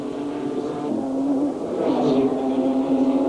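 A Formula Holden race car at Amaroo Park in 1989, its engine droning and rising in pitch as it climbs a hill, heard at a moderate distance under crowd-like ambience.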